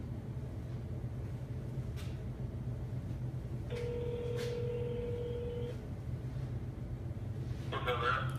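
A telephone call is being placed, with a steady ringback tone running for about two seconds over a constant low background hum, a few short clicks around it, and a brief burst of noise at the end.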